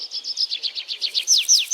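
A single bird chirps in a fast, rhythmic series of high, close notes that grow slightly louder toward the end, with no other sounds around it.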